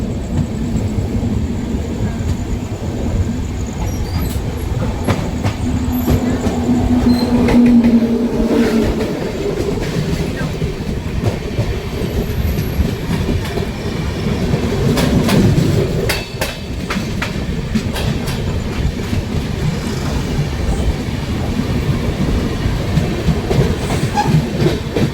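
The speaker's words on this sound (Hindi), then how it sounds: "सामने से कोई तो ट्रेन अराइवल लेती हुई" An oncoming train passes on a curve just outside Vadodara, heard from aboard the Saurashtra Mail with a loud, continuous rumble and rhythmic clickety-clack of wheels over rail joints throughout.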